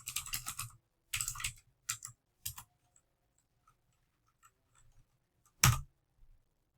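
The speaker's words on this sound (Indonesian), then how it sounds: "kita ketikkan dulu Kopi Kenangan." Typing on a computer keyboard in quick close bursts of clicks, then scattered single taps and one loud sharp key strike near the end, separated by stretches of near silence.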